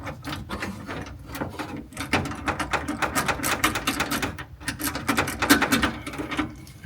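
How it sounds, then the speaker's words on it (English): A 10mm socket on a ratchet clicks in quick, dense bursts, loosening heat shield fasteners under a BMW G80 M3, close and fairly steady with a few short pauses. "I'm taking a 10mm socket here, and I'm unscrewing this part of the heat shield"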